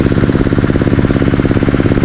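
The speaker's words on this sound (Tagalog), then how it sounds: "Nandun naman na si Kaka nag-grass cutter." A grass cutter engine runs close by with a fast, steady, rattling pulse, loud and continuous, no voices over it.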